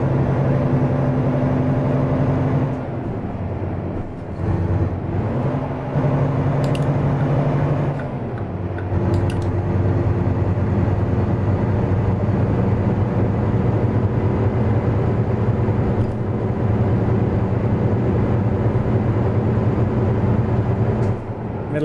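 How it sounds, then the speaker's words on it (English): A Volvo truck engine in American Truck Simulator drones steadily and loudly for the whole stretch, with a brief dip in pitch and level early on before the low rumble settles into a constant cruise. "I like the sound of this truck."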